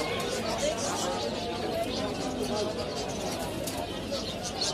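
Pigeons cooing at a busy pigeon market in Zinjira, Bangladesh, a dense murmur of soft coos and bird calls mixed with the chatter of a crowd, steady throughout.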